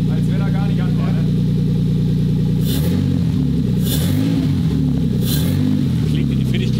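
A Toyota 2JZ turbo engine runs steadily with no sensors or mass airflow meter fitted, a deep droning idle that rises in a few short revs while people talk nearby.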